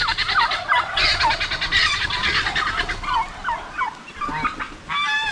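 Turkeys gobbling and geese honking together on a farm, a loud, dense chorus of overlapping bird calls close by, continuous throughout with rapid gobbling rattles standing out.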